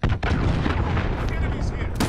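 Call of Duty: Modern Warfare allied cruise missile strike, a loud dense barrage of booming blasts and gunfire-like cracks rolling continuously for about two seconds, with a brief dip early on and a fresh burst at the end.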